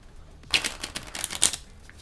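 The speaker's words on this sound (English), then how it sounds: "Gonna do us a little riffle shuffle here." A quick riffle shuffle of playing cards, two crisp bursts of flicking cards close to the mic with a short pause between, no voices.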